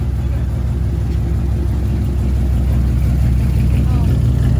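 A loud modified car engine at a car meet in Houston holds a heavy, steady roar with continuous revving, close and overpowering, while voices sit faintly beneath it.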